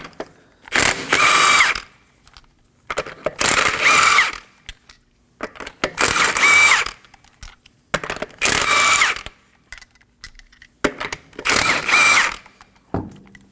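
An impact or ratchet tool with a 21mm socket whirs and rattles in five separate bursts while the front wheel comes off a 2016-2020 Kia Sorento, loud and close, with quiet gaps between the bursts.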